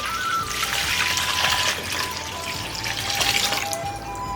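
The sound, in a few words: water poured into a pot for braising beef tripe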